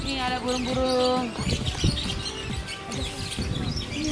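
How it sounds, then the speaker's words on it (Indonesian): Small birds chirp in short tweets near a rice field, mixed with voices talking close by and some handling noise. "Nih ada burung-burung."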